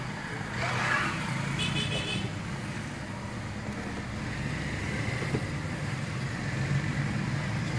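Busy town-centre traffic circling a square in Monte Sião, Brazil: cars and other vehicles rumble past steadily for several seconds, with a brief higher whine of a passing engine near the start and no talking.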